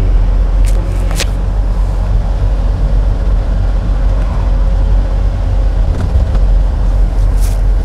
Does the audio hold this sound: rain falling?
no